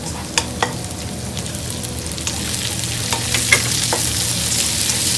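Chopped tomato and garlic sizzle steadily in a hot pan, with a spatula scraping and tapping now and then as the frying grows slightly louder, no talking.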